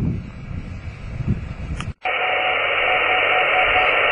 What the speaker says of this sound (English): Okay, we found a beacon, an RVB, VK5 RVB in Rossa Valley.